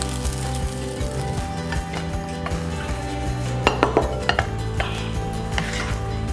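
A spoon scrapes and clinks while Vietnamese fried rice goes into a bowl, giving light metallic taps and a few sharper clinks over a faint background hum.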